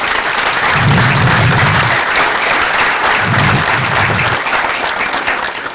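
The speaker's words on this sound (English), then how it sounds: "Let's give a round of applause." A crowd applauds at a community park opening outdoors, loud continuous clapping that stays strong throughout, with a low rumble of voices or wind under it.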